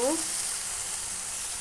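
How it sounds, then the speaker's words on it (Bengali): Okra with turmeric sizzles in a hot wok, a dense bright hiss with a brief stirring scrape at the start, steady and close for under two seconds. "ঢ্যাঁড়সটাকে প্রথমে কড়াইতে দিয়েছি, হলুদ দিয়ে একটু নাড়ছি"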